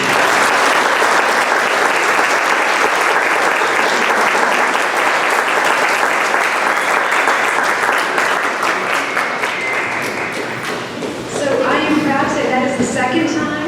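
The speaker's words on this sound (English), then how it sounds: "we just give them one more round of applause?" A large audience at a college opening convocation gives an a cappella choir a sustained, loud round of applause, dense clapping throughout that tapers slightly before a speaker's voice comes in near the end.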